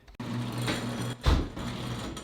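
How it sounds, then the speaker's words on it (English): A mechanical rumble with a steady motor drone as a garage door begins to open, with a heavier clunk partway through. "So if you would, Alex, just hit that garage door for me."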